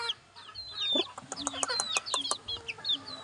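Young sweater pumpkin hatch gamefowl chickens clucking and chirping nearby, a busy run of short repeated calls from several birds, with no talk over them.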